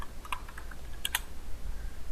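Short, quiet bursts of typing on a computer keyboard, a few quick clustered keystrokes close by with pauses between, alone without any talking.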